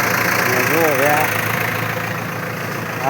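A tractor engine idles with a steady, close, throbbing rumble. Four people are loading a hand tree-cutter onto it, and a brief voice rises over the engine early on.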